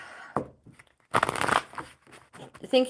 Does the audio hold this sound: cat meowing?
no